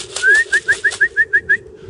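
Racing pigeons at a loft, among them a grizzle, call in a quick run of about eight short, rising pulses, close and clear against a quiet background.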